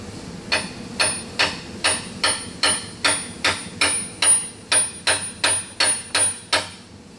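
Loud, sharp metallic hammer strikes drive a seal into a 2007 Mini Cooper S engine in a steady rhythm, about two each second, about fifteen blows in all, close by.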